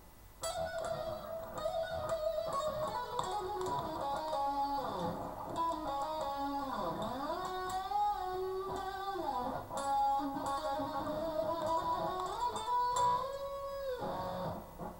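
Distorted electric guitar plays a song's riff at full speed, a fast run of hammered-on notes with bends and slides, loud and sustained alone throughout.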